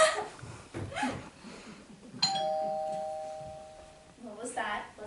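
A two-tone doorbell chimes once, clear and sustained, between snippets of nearby conversation.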